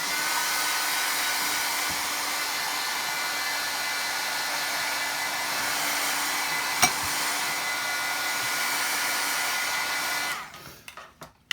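Heat tool blowing steadily to heat-set paper glaze, a loud constant airy whir that holds for about ten seconds before cutting off with a few small clunks.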